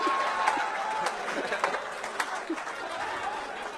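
Audience clapping at a live comedy show in Dallas, Texas, a steady wash of applause with scattered chatter and a few voices over it.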